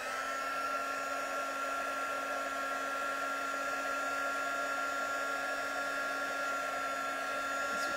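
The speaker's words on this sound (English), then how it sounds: "And then we'll heat that with our heat tool now." Heat tool blowing hot air to melt embossing powder on a stamped card, a steady close whirring hiss held unbroken throughout with no talk.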